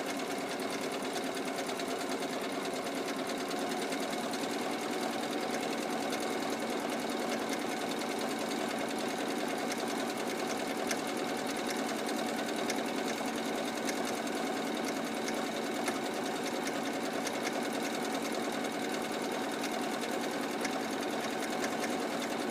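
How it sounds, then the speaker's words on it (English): A sewing machine runs a continuous zigzag stitch down the edge of shorts fabric at a side seam, a steady loud mechanical whir with a busy rapid needle clatter, unbroken throughout with no talking. "and then I zigzag all the way down the edge."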